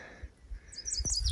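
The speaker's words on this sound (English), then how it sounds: "Oh, yellow bird." A small yellow bird near an old gold mine and ghost town calls in a quick cluster of high chirps toward the end, short and fairly close against faint background noise.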